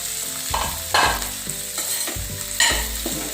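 Drumsticks (moringa pods) sautéed in a hot pan with repeated scraping stirs, several distinct spoon strokes over a continuous close sizzle, no talking.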